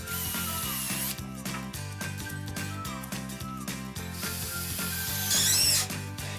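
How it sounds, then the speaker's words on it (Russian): A power drill bores a hole and drives a self-tapping screw into a cracked wooden bar while a shelving unit is built in a home workshop. The tool gives a loud, ratcheting whir with brief pauses and a rising whine near the end. "Не проблема, просверлю рядом отверстие и через него вкручу саморез."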